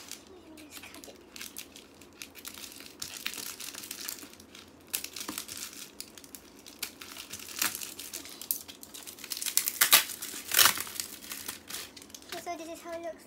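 A package holding a DVD is cut and opened, producing close crinkling and crumpling of plastic wrapping with sharp bursts of tearing, steady handling noise throughout and brief light chatter near the end.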